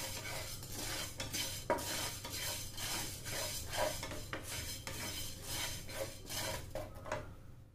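A spoon scrapes and stirs two spoonfuls of salt around a hot pan with the gas turned off, giving steady gritty rubbing and soft metallic taps with no talk.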